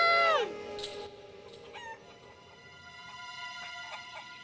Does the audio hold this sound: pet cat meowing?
no